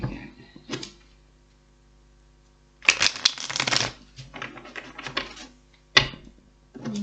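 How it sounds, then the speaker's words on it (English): Tarot cards being shuffled in several crisp riffling bursts separated by short pauses, close and fairly loud, with no talking. "One more shuffle"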